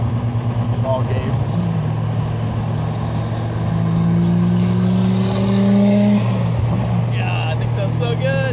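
HKS-tuned Nissan Skyline R34 GTR accelerating on a Tokyo highway at night, a loud sustained engine drone with climbing tones through gear changes, and voices speaking over it at times.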